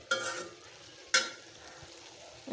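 Eggplant frying and being stirred in spices, a soft sizzle under a few distinct scrapes of a spatula against the pan, close and quiet.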